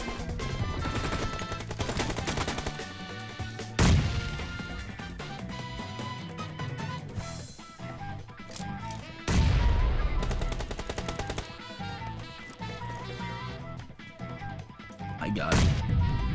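Rapid bursts of automatic gunfire and single shots from a shooter video game, loud and dense, with heavy impacts and explosions recurring across the stretch amid music-like game sound.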